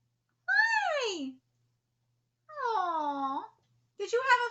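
A cat meows three times, drawn-out and clear at close range, with quiet pauses in between.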